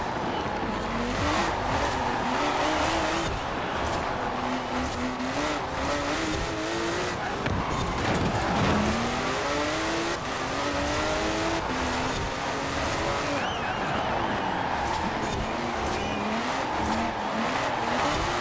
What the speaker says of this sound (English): There's a lot of wheels coming off the line.